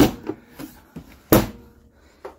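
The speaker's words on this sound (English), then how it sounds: "let me close this door." An exterior storage compartment door on a Winnebago View motorhome shuts with one solid, close slam, surrounded by a few lighter clicks and handling knocks.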